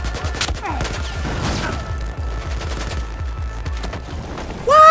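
Gunfire in the video game Battlefield 4 rattles in rapid, evenly spaced shots, loud and continuous, ending in a sudden heavier burst that could be the grenade blast.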